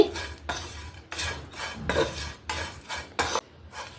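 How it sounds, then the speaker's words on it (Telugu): Prawn shells dry roasting in a pan as a utensil stirs and scrapes them, giving repeated rhythmic scraping rattles about every half second with faint sizzling and no talk. "సిమ్లో పెట్టేసి వేయించుకుంటే మినిమం ఒక 10 నిమిషాలు పట్టిద్దండి ఇవి బాగా వేగడానికి."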